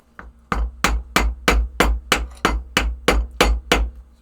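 Steel sheet is hammered over a deep dome, a run of about eleven loud, evenly spaced metallic blows, each ringing briefly before the next strike.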